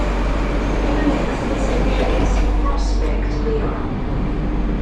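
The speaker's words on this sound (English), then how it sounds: "it's a metro train decorated on the theme of metro" A Moscow metro train decorated on a metro theme rumbles loudly and steadily from inside the carriage, a constant low roar of wheels and motors with faint voices underneath.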